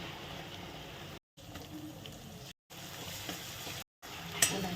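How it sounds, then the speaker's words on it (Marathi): Tomatoes fry in a pan for dhaba-style potato and spinach, a soft, continuous sizzle with light stirring, broken by a few abrupt silent gaps. "टमाटा छान फ्राय करून घ्यायचा"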